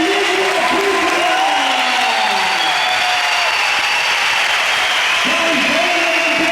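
Big arena crowd at the Pabellón del Parque de los Patos gives a loud, sustained ovation after a boxing bout, cheering and applause washing together throughout, with whoops and shouts rising over the roar.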